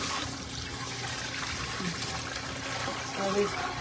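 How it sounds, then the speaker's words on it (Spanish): Water poured and sloshing while the soaking water for salted fish is changed, a close, continuous splashing and trickling with a voice talking over it. "Este es mi segunda vez cambiando el agua"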